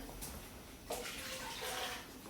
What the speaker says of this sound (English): Now, got my Dutch oven ready. I put my broth back in